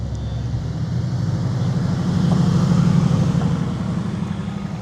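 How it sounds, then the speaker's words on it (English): A Mercedes-AMG GT S passes at a Cars & Coffee show in Chester, its low engine rumble steady and close, swelling toward the middle as it rolls by with no talk. "GTS AMG Mercedes."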